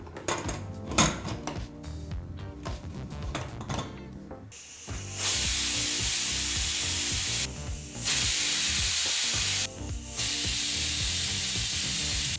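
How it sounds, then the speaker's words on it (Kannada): A pressure cooker on a kitchen stove, cooking a greens and leaf curry, lets out loud sustained steam whistles in three long bursts, with quieter clattering and bubbling in between. "ಈಗಿಲ್ಲಿ ಕುಕ್ಕರು 3 ವಿಸಲ್ ಬಂದಾಯಿತು."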